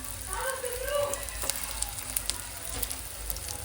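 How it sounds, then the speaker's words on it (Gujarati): Steady sizzling of hara bhara kebabs frying in hot oil over low flame, with soft crackles and small pops throughout, close and moderately quiet. "હવે આપણે એને આ રીતે અંદર તળવા માટે મૂકી દેવાનું છે"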